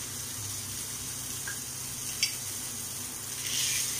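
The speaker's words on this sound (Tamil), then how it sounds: "பட்டர் வந்து பேனில் போட்டுட்டு" Butter sizzles in a frying pan while a vegetable frankie is being made, a soft steady hiss under faint kitchen noise, with a brief clink partway through.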